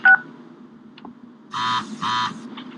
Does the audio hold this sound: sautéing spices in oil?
no